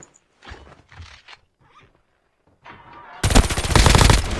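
Machine pistol fire in the mobile shooter COD Mobile: a sudden loud, dense burst of rapid automatic shots in the last second and a half, after quieter bumps and scuffs.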